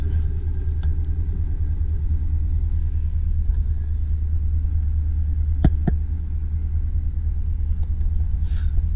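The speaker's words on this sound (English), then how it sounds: "1989 Chevy Caprice. Starts up right away." A 1989 Chevy Caprice Classic station wagon idles steadily just after start-up, a low continuous rumble close to the engine, with a few faint clicks and taps over it and no talking.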